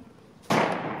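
One sharp crack from a Ruger MKIII 22/45 pistol at a shooting range, sudden and loud after a quiet moment, its echo fading out.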